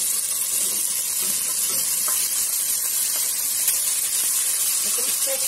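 Vegetables sautéing in a pan with golden-browned garlic, a steady soft sizzle and hiss running throughout with faint stirring clicks, close and even in level.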